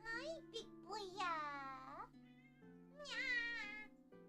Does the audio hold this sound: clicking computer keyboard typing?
no